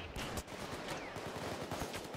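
Rapid sniper and automatic gunfire in the video game Payday 2 during a Birth of Sky heist, a dense continuous barrage of close, loud shots with no talking.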